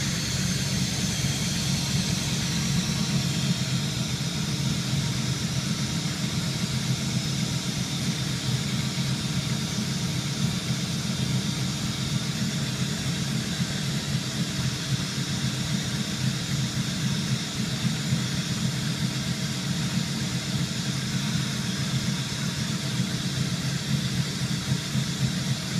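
An engine idles steadily after a restart on a vehicle with Optispark distributor trouble, a constant low drone with a faint high whine running unchanged throughout.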